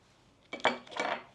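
A spoon scrapes and clinks against a bowl while chicken spring roll filling with egg, salt, black pepper and sesame oil is stirred, two short bursts of metallic scraping close up.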